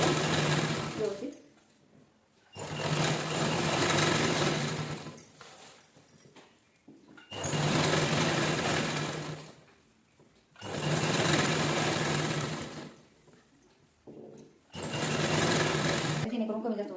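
A sewing machine stitches a sequined saree into a door curtain in four loud whirring bursts of a few seconds each, separated by quiet pauses, with someone speaking between them.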